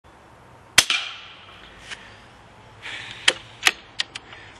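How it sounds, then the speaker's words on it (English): A firearm treated with Gun Juice fires at a target, several sharp, snappy cracks at irregular intervals, one early and a quicker cluster later, heard from some distance with a faint background hiss. "I am going to shoot 10 shots at the target"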